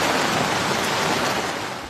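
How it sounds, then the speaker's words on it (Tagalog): Floodwater rushing down a sloped area of a village in La Trinidad, Benguet after heavy rain, a loud continuous broadband roar of churning water that stays steady throughout with no voices. "rumagasa ang baha sa pababang bahaging yan ng Barangay Pico sa La Trinidad, Benguet"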